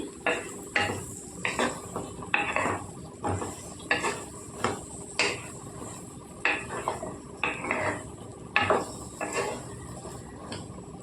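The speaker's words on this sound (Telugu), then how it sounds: "ఒకసారి ఉల్లిపాయలు అన్నీ కలిసేలాగా కలుపుకుందామండి" A spatula scrapes and clanks against a metal pan while stirring chopped onions with brinjal and potato pieces, a regular rhythm of close, distinct metallic strokes over a quiet background.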